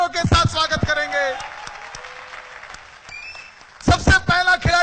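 An audience at a sales-skills seminar applauds to welcome players onto the stage for a game, a burst of clapping lasting a couple of seconds between stretches of someone talking.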